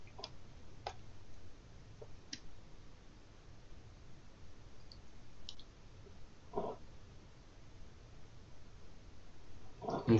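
Computer mouse clicks, a few faint sharp clicks scattered at irregular intervals over a quiet background hiss.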